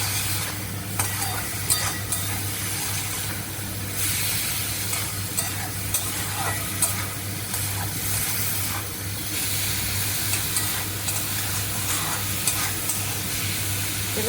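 A chilli, coriander and cumin spice paste sautés with potatoes in a pan for a cabbage curry, producing a loud, continuous sizzle. Stirring clatters and scrapes recur throughout.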